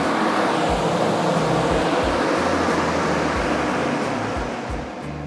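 A blower door test fan runs steadily with a broad rushing whoosh of air and a low thrumming pulse, loud and close, easing slightly toward the end.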